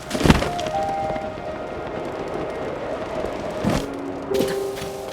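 Wooden planks stack-dropped in Zelda: Tears of the Kingdom give a sharp thunk at the start, a second knock near the end, and a later clunk over a steady game ambience with tonal hums.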